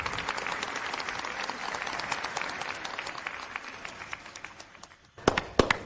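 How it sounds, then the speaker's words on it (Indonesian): Wedding guests give the bride and groom lively applause, dense sustained clapping that fades out, followed by a few sharp loud claps or bangs close by at the end. "Mari kita beri tepuk tangan meriah untuk Bapak Rizky Pratama dan Ibu Putri Ayu"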